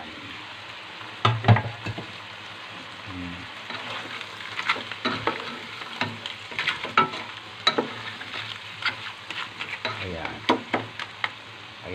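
Crab being stir-fried in a pan of oyster sauce with hot chili, with a steady sizzle broken by repeated scraping stirs and clatter, and a brief voice speaking over it.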